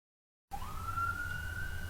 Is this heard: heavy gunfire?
no